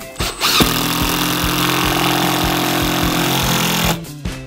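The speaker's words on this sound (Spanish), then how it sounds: "Como usted puede oír la vibración del taladro" A power drill bites hard into a 2x4 while a TV wall mount is installed, giving a loud, steady grinding whine with a pulsing rhythmic vibration for about four seconds, starting and stopping abruptly, with no talk over it.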